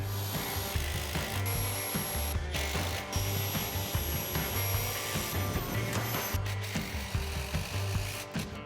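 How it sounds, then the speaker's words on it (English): A drill drives screws down through a toilet repair flange in a basement bathroom, with rapid ratcheting clicks and a motor whir in repeated bursts, close and loud. "A repair flange in, and now I need to screw it down."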